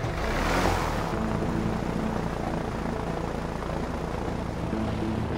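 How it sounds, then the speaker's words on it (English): Steady loud droning roar of an airplane engine in the video game A Way Out, a broad whooshing rumble with a brief louder swell near the start, continuous and alone. "Alright, get into the plane."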